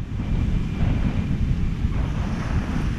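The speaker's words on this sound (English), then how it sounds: "Oh man, it's really windy." Strong wind at a beach buffets a cotton-covered microphone with a constant low roar, mixed with the wash of surf in the background.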